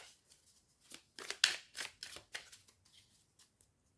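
Crisp riffling and shuffling of a slippery tarot card deck up close, a series of quick slippery bursts with short pauses between them.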